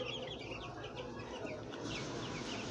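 A flock of 28-day-old chickens clucks steadily, giving a dense, continuous chatter of soft calls at a moderate distance with no voices.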